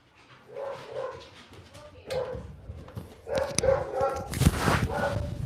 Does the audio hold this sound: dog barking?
yes